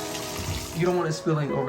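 Tap water running into a container to fill a Barbicide jar for cleaning hair clippers, a steady rushing pour with the pitch rising as the container fills, over a low background hum.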